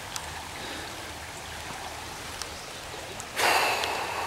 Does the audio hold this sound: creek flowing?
yes